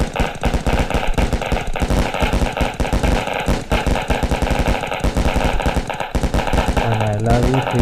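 A string of Deepavali firecrackers bursts in a loud, rapid, continuous crackling barrage of sharp pops, with a voice briefly heard near the end.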